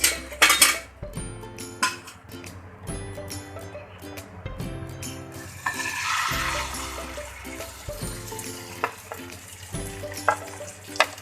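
Spanish omelette of egg and potato cooking in oil in a non-stick pan: a loud close sizzle with repeated scraping and clanks of a spatula against the pan, a burst of hissing as more oil goes in.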